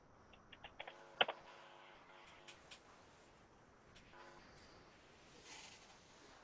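Quiet typing on a computer keyboard, with scattered soft key clicks and one sharper tap early on, then a few more light strokes over a low background hum.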